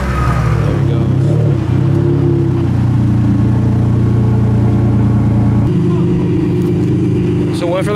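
A Ferrari Enzo supercar drives off with a loud, sustained engine drone whose pitch shifts as it pulls away, with voices mixed in.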